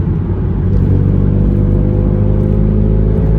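A car engine rumbles steadily while driving, a loud, low, continuous drone with a smooth even tone and no talking.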